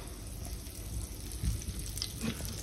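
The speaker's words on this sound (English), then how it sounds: "Now it is sizzling" Butter sizzling in a hot pan just before saltimbocca goes in, a steady close hiss with faint crackles and a brief clatter partway through.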